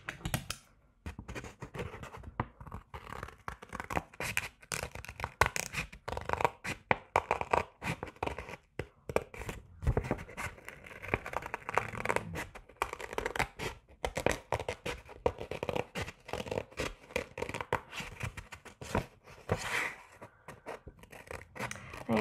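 Scissors snipping paper to cut out a number for a toilet paper roll butterfly craft, a steady run of quick, close, quiet cuts and rustles throughout.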